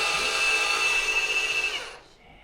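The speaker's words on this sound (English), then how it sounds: "We get to use our new Ryobi mud mixer." A Ryobi mud mixer spins up with a loud, steady high-pitched motor whine that holds for about two seconds, then winds down and cuts off.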